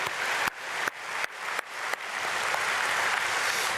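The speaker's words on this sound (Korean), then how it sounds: "우리 서로 감사와 축복의 박수 드리겠습니다" A church congregation at an early morning prayer service claps together, a dense burst of applause broken by a few sharp cuts in the first two seconds, then steady and sustained.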